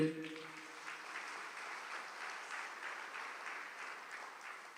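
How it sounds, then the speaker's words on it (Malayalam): A congregation at a church sermon clapping together on a priest's call, a dense, even patter of applause that holds steady and fairly distant throughout. "ഒന്ന് കൈയുയർത്തി കൈയടിച്ചേ"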